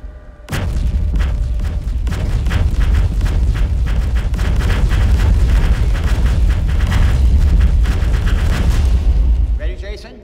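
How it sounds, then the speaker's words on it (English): Loud, dense roar of mixed fire sounds blasted through many modified speakers aimed at a fire, a continuous booming, crackling wall of noise that starts abruptly and runs steadily for about nine seconds before cutting off. "We'll aim this sound at the fire with these modified speakers."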